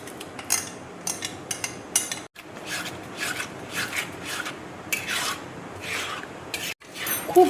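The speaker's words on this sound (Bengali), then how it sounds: "খুব ভালো করে দেখো নেড়ে যেতে হবে।" A spoon scrapes and rubs around a kadai while kalakand mixture of milk cream and paneer is stirred, giving a continuous rasping swish in uneven strokes, close and moderately quiet.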